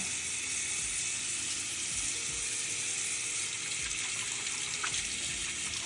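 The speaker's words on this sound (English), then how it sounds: "So you wet the brush, 2 pumps of baby shampoo, and you rub it in there" A makeup brush is rubbed with baby shampoo under a running tap, making a continuous splashing rush of water with faint scrubbing, no voices.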